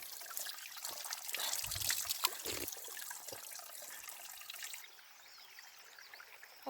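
Cold spring water trickles steadily beside a hillside field in Pithoragarh, Uttarakhand, a faint, continuous close-up dribble with no one speaking.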